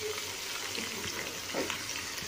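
Cauliflower goes into a pan of potatoes frying in spices. The result is a close, continuous sizzle with some stirring scrapes and a brief louder splutter partway through.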